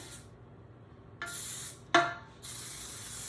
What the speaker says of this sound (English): we are going to spray our pan